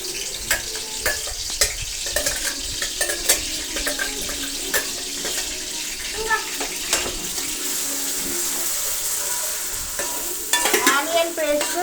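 Onion paste frying in hot oil for a Hyderabadi fish curry, a steady close sizzle broken by scraping stir strokes, growing busier and louder near the end.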